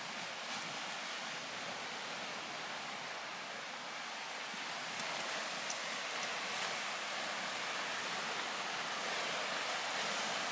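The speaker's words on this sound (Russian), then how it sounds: "Главное, шум моря" Sea surf breaking on a sandy beach beside a tent: a continuous broad rushing wash, steady and fairly soft, with no voices.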